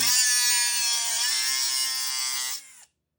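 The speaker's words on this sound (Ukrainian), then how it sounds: "Беремо болгарку і перевіряємо іскру." An angle grinder held against metal for a spark test gives a loud, high steady whine with a bright harmonic tone that drifts slightly lower, then cuts off sharply into silence near the end.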